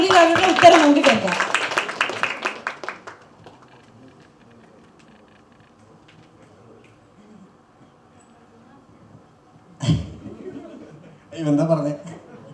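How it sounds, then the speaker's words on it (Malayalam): Audience applause breaks out at a stage event, loud and dense for about three seconds, then fades to a quiet room before brief bursts of sound and speech return near the end. "ആദ്യം ഒരു കൈയടി കൊടുക്കാം"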